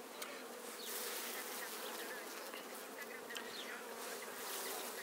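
Honey bees swarm around a hive on a warm spring day of mixed cloud and sun, some returning with pollen, making a dense, continuous buzzing drone close by with individual bees whizzing past, with no talking.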